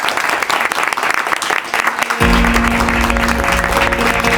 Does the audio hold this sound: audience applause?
yes